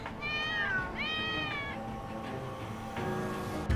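Cats meow repeatedly in Lost Judgment, several drawn-out rising and falling cries close together, one after another over a steady low game ambience with no talking.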